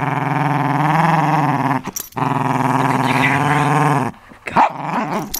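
A toy poodle puppy growls close up in long, rumbling stretches broken by short gaps, with a few yips near the end.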